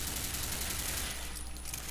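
An MP7 submachine gun fires in the video game ZombieW, a dense rapid stream of close, loud shots that runs through the whole moment with a brief tinkle of falling casings.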